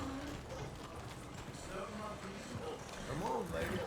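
Horse hooves clip-clop in a Red Dead Redemption 2 game scene, a steady trotting rhythm at moderate distance with someone talking over it.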